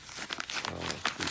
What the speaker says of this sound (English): let's open up this other package right here